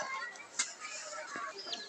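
Chickens cluck faintly in a rural village yard, with a few short, distant calls scattered over quiet outdoor ambience.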